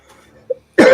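An older man coughs, one short low cough then a loud harsh cough at the end, close to the mic with no talk.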